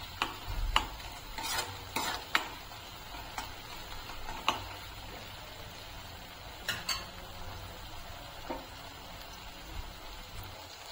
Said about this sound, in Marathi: आता आपला मसाला परतून झालेला आहे